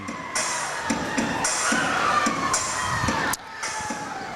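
A crowd of basketball fans from Estill County and Letcher County Central fills a gym at a girls' regional tournament semifinal, with a steady din of chatter and shouts and scattered louder calls.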